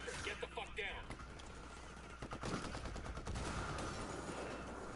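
Gunfire in the video game Ghost Recon Wildlands, with rapid bursts of automatic shots and scattered single cracks at moderate level, alongside faint players' voices.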